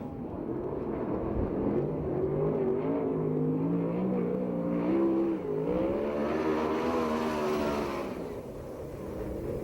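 A USAC/CRA sprint car engine howls through a qualifying lap at Perris, rising and falling in pitch as it accelerates and lifts, loud and continuous before fading slightly at the end.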